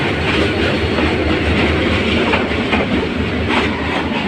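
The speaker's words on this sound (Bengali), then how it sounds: "দেখেন ট্রেন ট্রেন রেল স্টেশনে ঢুকতেছে" A train rolls into Brahmanbaria railway station, heard from a footbridge above the tracks: a loud, continuous rumble with rhythmic clickety-clack of wheels over rail joints and occasional faint squeals, with no talking.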